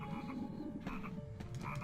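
Frog croaking in MediEvil, a chorus of low throaty croaks and chirps repeating irregularly over a soft ambient bed, fairly close and continuous with no voices.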